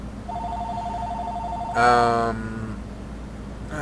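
Telephone ringing with an answering machine, heard as a repeating electronic ring tone with a bright burst of harmonic tones midway and another starting at the end, moderately loud over a low background hum.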